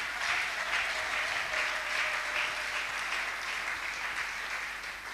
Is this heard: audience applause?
yes